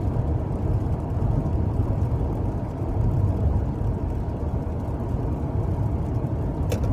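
Car interior drone while driving in traffic: a steady, loud low-frequency road and engine rumble that stays constant throughout, with no voices.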